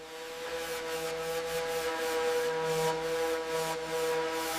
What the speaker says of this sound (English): Hours of sanding prepare the body for perfection.